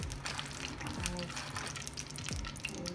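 Ghee poured into a hot pan for an Afghani pulao, set to fry cashews and raisins for garnish, giving a steady liquid gush and sizzle with a few faint clinks, close and continuous.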